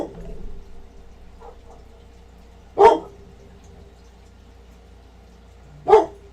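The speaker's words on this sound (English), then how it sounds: "Bark louder." A pet dog named Bella gives two single sharp barks a few seconds apart, moderately near, over a quiet background hum indoors.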